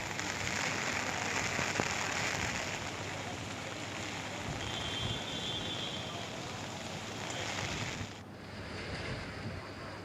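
Heavy rain pours in a dense, continuous hiss with a low rumble beneath, steady and fairly loud, dropping slightly near the end.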